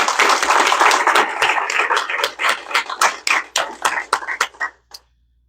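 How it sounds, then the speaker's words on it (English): An audience at an EMS Week recognition event gives a loud round of applause, dense clapping at first that thins into scattered individual claps before stopping abruptly. "So if I could get one more round of applause for Lisa."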